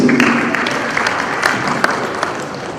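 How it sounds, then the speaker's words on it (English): A round of applause for the Executive Secretary at the launch of the Edo State Technical Talent Development Policy: steady, dense clapping from a crowd that holds at an even level for the whole stretch. "Another round of applause for him, please"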